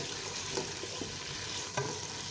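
A spoon stirs chopped capsicum, vinegar, soy sauce and green chillies in a hot pan for chicken tikka macaroni, giving a soft continuous sizzle with a couple of light scraping knocks.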